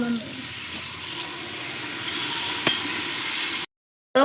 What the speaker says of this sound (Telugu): వాటర్ వేసేద్దాం.